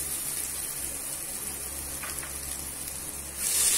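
Onions and vegetables frying in a pressure cooker, a continuous hissing sizzle filling the whole clip, swelling slightly louder at the very end.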